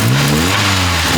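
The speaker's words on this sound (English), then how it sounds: "She's still revving up" An old Geo Tracker engine, revived after years of neglect, revs loudly and steadily up close, a continuous rising engine roar with no voices.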